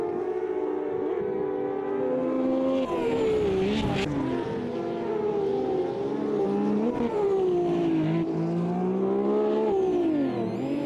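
Race car in a classic racing game drifting out of a corner, engine whining and rising with sustained tyre squeal, loud and continuous, without talk.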